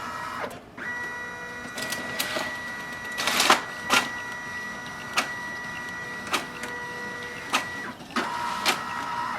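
A Brother MFC-J1360DW inkjet printer runs a copy job, its steady mechanical hum broken by repeated sharp clicks and carriage clatters at irregular intervals, close and clear with no talking.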